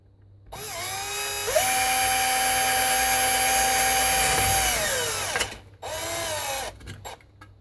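A power drill whirs up and runs steadily for about four seconds while boring a hole, its motor whine loud and close, then spins down and briefly revs again, with no talking.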